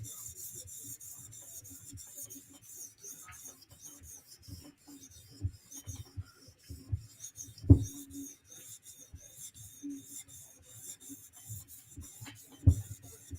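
A custom knife being polished on an 800 grit sharpening stone: quiet, intermittent rubbing strokes with a few louder scraping hits, close by and with no speech.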